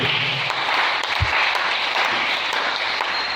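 A church congregation breaks into loud, sustained applause, a dense wash of many hands clapping that fills the room evenly from start to finish.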